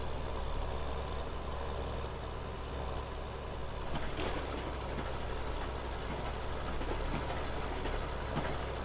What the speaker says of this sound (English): I think this is a good tractor